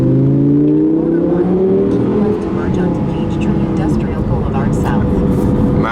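An Audi R8 V10 Plus engine revs up, its rising growl climbing in pitch while a person talks over it from inside the car.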